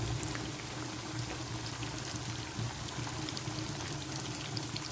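Fish frying in oil on a medium-low flame gives a continuous soft crackle and bubbling sizzle, steady and close with no talk over it.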